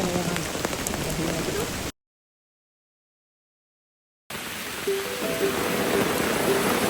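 Steady rain pattering on surfaces at a riverside campsite, a dense hiss, broken by a couple of seconds of total silence before it resumes.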